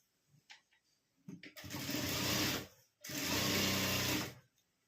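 An electric sewing machine stitching fabric pieces together for a card-holder pouch, running in two loud, steady bursts of close, whirring motor hum separated by a short pause, with faint handling noises before.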